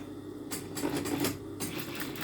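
A sewing machine stitching a seam on the wrong side of the fabric, a close, rapid mechanical chatter in short uneven bursts with brief pauses between runs.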